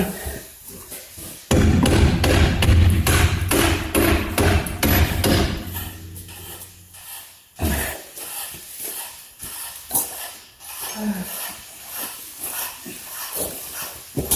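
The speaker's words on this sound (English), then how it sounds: "maybe we can drive it out though" Hammer blows drive a tight, tensioned bolt out of a 1971 Chevy pickup's passenger-side assembly, with loud, close metallic impacts in a dense rapid burst early on, then scattered knocks and shuffling.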